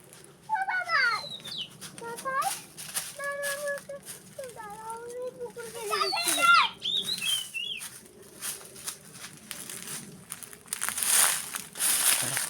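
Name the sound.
birds calling in a bamboo grove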